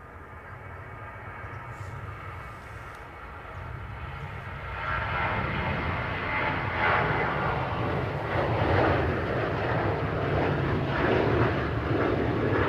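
An Airbus test aircraft flies past the Toulouse factory, its jet engine roar building from a distant rumble into a loud broad wash that keeps swelling to the end.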